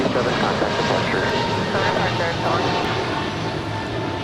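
American Airlines Airbus A321neo taking off from LAX, a broad steady engine roar that fills the scene at constant loudness, with a voice talking over it.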